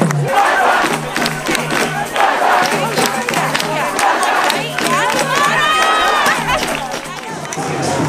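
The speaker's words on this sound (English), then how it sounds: "everybody is cheering" A large protest crowd of NYU students cheers and shouts outdoors as tents go back up, with dense, loud, continuous roaring and whoops that stay steady throughout.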